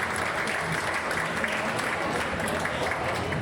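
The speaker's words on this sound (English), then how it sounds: "Please give a round of applause to everybody once again." Dense, steady applause fills a hall during an esports state selection opening ceremony in Sarawak. A crowd claps continuously with no breaks.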